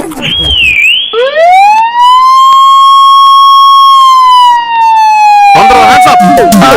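A police car siren wails loud and close, one long sustained tone with rising pitch, then slowly falling, with other noise and voices around its start and end.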